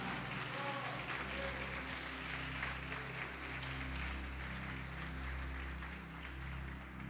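Church congregation applauding during a sermon on baptism with the Holy Spirit, a sustained wash of clapping at moderate distance over a steady low hum from the room's sound system.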